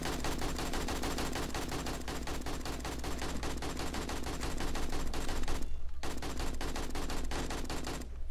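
Dense rapid gunfire from enemies in the zombie survival game 7 Days to Die, modded Darkness Falls, rattles on continuously in fast bursts with a brief gap near the end, loud and close, no talk.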